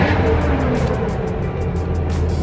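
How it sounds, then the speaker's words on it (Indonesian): A 1981 Toyota Land Cruiser FJ40 hardtop engine, loud and close, running with a steady, rough mechanical rumble and no talk over it. "mesinnya sudah hidup"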